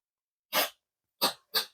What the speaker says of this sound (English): My cat is sneezing.